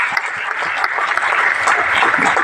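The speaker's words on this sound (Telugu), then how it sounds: "ఒక్కసారి గ్రేట్ రౌండ్ ఆఫ్ అప్లాజ్ ఇవ్వచ్చా?" A seminar audience at a leadership training session applauds, a dense, loud, sustained wash of clapping from many hands that fills the room throughout.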